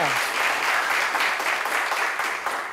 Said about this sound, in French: On applaudit pour mes 6 candidats.